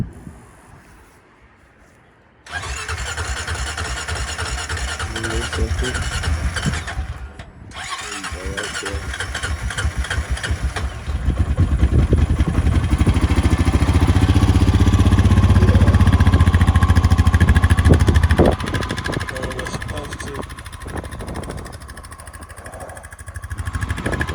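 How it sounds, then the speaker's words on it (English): A Honda Rancher 420 ATV engine cranks and catches after a quiet start, then runs loud and steady, with a higher-revving stretch in the middle before settling back to a rough idle. "Let's turn it up, get this thing running."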